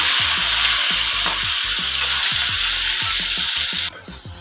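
Pieces of jackfruit (kathal) sizzling loudly in hot oil in a village-style kitchen, a steady close crackle with periodic clinks of a stirring spoon against the pan, dropping quieter near the end.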